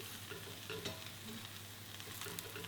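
Mushrooms and peppers sizzle steadily in a hot pot for a one-pot dish while a utensil stirs them, with scraping strokes over the constant close frying hiss and no talk.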